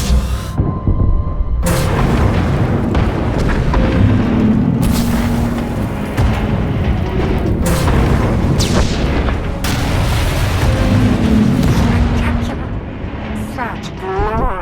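A failsafe superweapon firing in a sci-fi game, heavy booming blasts repeating every few seconds over a continuous rumbling barrage, loud and close, with voices speaking over it.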